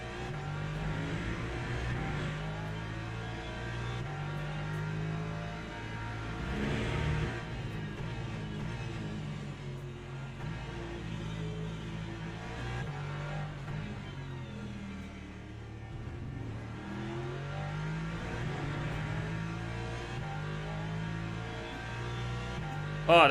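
Race cars in the Le Mans Ultimate racing sim, engines droning and revving continuously as cars battle side by side, one car moving around the outside of another.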